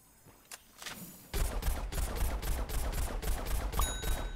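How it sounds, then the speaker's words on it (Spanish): Rapid bursts of gunfire from the video game Plants vs. Zombies: Garden Warfare 2, loud and repeated, firing steadily with a brief chime near the end. "Yo disparo por si acaso"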